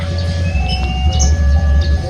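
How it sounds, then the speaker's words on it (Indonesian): Pandalungan passenger train from Jakarta Gambir pulling into Jember station, a steady low rumble of rolling stock with thin high metallic tones from the wheels, moderately loud and continuous with no voices. "persiapan kereta api Pandalungan KA3233 dari stasiun Jakarta Gambir tujuan Jember akan masuk di stasiun Jember"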